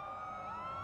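A police siren in the Watch Dogs 2 video game holds a loud, steady wailing tone throughout the short moment, with a low rumble of street noise underneath.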